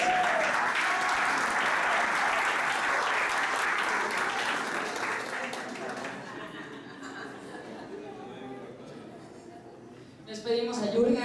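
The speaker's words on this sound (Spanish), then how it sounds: "Un fuerte aplauso." At a stand-up comedy venue in Mexico, an audience breaks into loud, sustained applause with some cheering and chatter, fading out gradually over several seconds before a brief burst of voices near the end.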